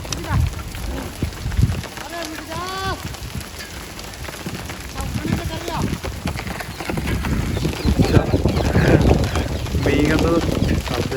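Heavy rain pours steadily on an outdoor surface on a farm with straw stacks, a close, dense hiss that swells toward the end while people talk over it.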